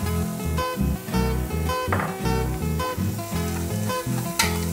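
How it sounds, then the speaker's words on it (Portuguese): Onion and bacon stock cubes sauté in a hot pan for a polenta bolognese sauce, a steady close sizzle and crackle with occasional stirring and no talk. "Dou mais uma refogadinha."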